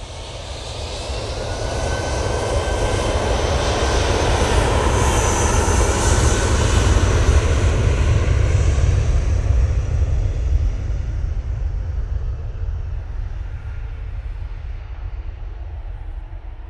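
A British Airways Airbus A319 jet airliner roars past close by, a loud broadband engine rush that builds and then slowly fades as it departs, with no talking over it.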